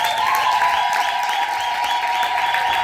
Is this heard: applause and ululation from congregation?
yes